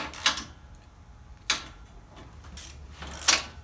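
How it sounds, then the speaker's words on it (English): Wrench tightening 10mm bolts during a transmission cooler install, heard as a few sparse, faint metallic clicks and clanks spaced apart, with quiet pauses between. "I'll tighten these bolts up. These 10mm bolts on both sides."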